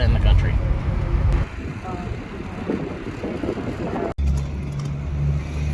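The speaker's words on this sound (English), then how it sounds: "Mexico City traffic, pretty typical in the afternoon" Afternoon street traffic near Plaza Garibaldi in Mexico City rumbles steadily with passing engines and wind buffeting the microphone, a brief cut midway, then a nearer vehicle's low drone.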